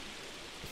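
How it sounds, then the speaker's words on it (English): Steady hiss of rain falling in Minecraft, a soft, even wash of droplets with no other sounds. "New rain sounds."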